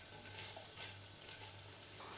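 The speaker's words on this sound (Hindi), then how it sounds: "अब हम इनको तेज़ आंच पर थोड़ा सा मिक्स कर लेंगे।" Capsicum and mixed vegetables are stirred together in a hot pan over high heat, a faint, steady sizzle with soft scraping of the spoon, with no voice over it.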